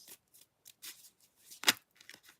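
Tarot cards are shuffled and drawn in short crisp bursts of riffling and slapping, close and fairly quiet, with one sharper snap near the middle and no talking.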